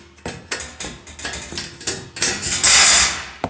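A metal stud is snipped in a series of sharp metallic clicks and crunches, irregular cuts spaced a fraction of a second apart, building to a louder, harsher scrape at the end, close and without talk.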